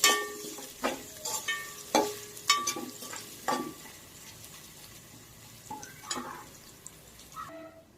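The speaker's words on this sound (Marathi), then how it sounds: "लसूण देखील यामध्ये फ्राय करायचा आहे" Garlic cloves frying in oil in a pan, a soft crackling sizzle punctuated by clinks and scrapes of a stirring spoon, fairly quiet and close, with no talk.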